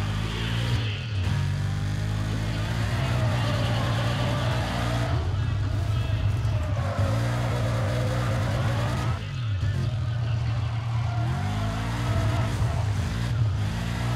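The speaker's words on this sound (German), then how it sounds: "Toller Drift, das ist doch schon mal was." A car drifts in the racing game Need for Speed ProStreet: a loud, steady engine drone with sweeping pitch rises and falls as gears shift, continuous and close throughout.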